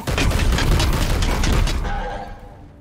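Heavy guns in the Warhammer strategy game Chaos Gate: Daemonhunters fire on a target, a rapid run of deep booming blasts for about two seconds that then fades into a rumbling decay with a faint mechanical whir.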